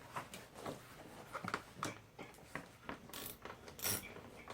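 A ratchet clicks in short uneven bursts while loosening a bolt on a Snapper 21-inch commercial Ninja self-propelled mulching lawn mower, close and fairly quiet, with metallic taps between strokes.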